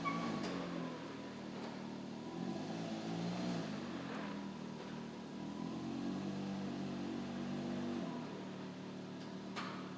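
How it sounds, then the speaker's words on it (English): A Can-Am Maverick X3 side-by-side is driven slowly back and forth, its mid-pitched engine idling and revving in gentle swells, with some clunks, fairly close and steady throughout. "drive the vehicle back and forth to settle the suspension"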